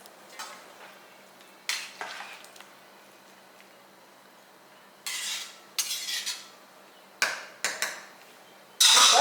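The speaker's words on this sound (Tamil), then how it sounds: "தட்டை மூடி வச்சிடலாம்." Several sharp clattering knocks as a plate is set over a pot of mutton dum biryani, in separate bursts and scrapes against faint background hiss, with a loud clang at the very end.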